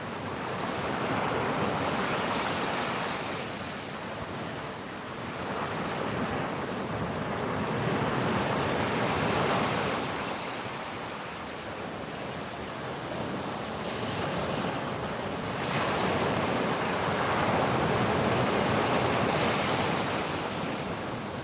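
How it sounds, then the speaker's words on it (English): Continuous rushing ocean surf and wind along the shore, broad hissing swells rising and falling in slow surges over twenty seconds, steady and moderately loud with no voices. "The wind's dropped, so the seas have dropped."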